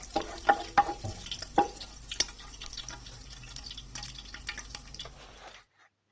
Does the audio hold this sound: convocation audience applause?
no